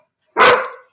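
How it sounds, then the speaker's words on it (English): A house dog gives a single loud, close bark after a moment of silence, sharp at the onset and then fading away. "Sorry about the dogs."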